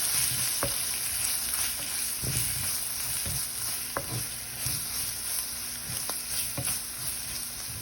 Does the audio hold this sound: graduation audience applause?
no